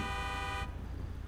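A car horn honks in the GTA video game, a steady harmonic blare that sounds loud for about half a second and then cuts off, leaving low engine rumble underneath.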